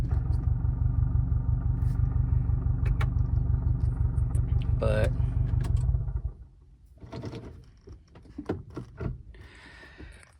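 A 2021 Subaru STI fitted with a Group N shifter rumbles loudly with a pulsing engine and drivetrain drone for about six seconds after the clutch is let out, then drops to quieter clicks and clunks as a voice speaks briefly.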